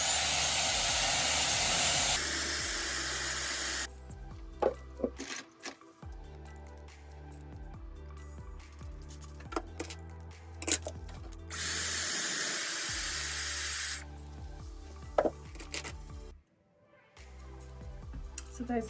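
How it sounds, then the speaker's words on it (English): Hairspray from an aerosol can hisses in several sustained bursts over curled short hair styled in a vintage Hollywood look, with quieter gaps of handling and styling noise between the sprays. "Just give it a little bit of a spray."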